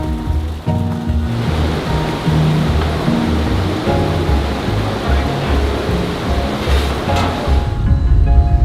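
A rushing mountain river in the Karakoram roars beside the road, a loud, continuous broadband rush of churning water up close, with low rumbling underneath and no clear voices.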